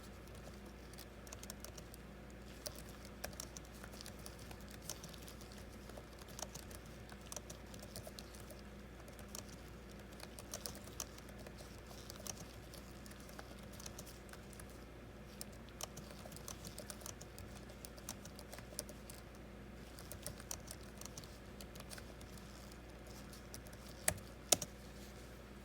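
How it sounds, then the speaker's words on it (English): Steady, light typing on the keyboard of a Dell G laptop, with quiet, rapid key clicks throughout and a couple of sharper taps near the end, close and faint, with no talking. "This is how the keyboard sounds while typing."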